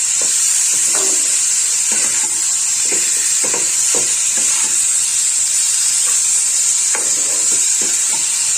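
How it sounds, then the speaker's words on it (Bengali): Spice paste for egg curry sizzling loudly in a pan, a constant hissing fry close up with irregular scrapes and knocks of a spatula stirring it. "মশলা ভালো করে কষিয়ে নিয়েছি"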